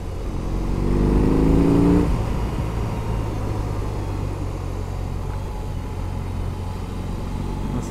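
A 2021 BMW R 18 First Edition motorcycle engine rumbles under a rider, rising in a short rev early on and then holding a steady, loud drone mixed with road and wind noise.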